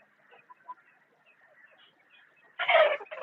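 Fighter and native village chickens cluck, starting with faint scattered clucks and chirps in a quiet yard before a loud close burst of squawking clucks near the end.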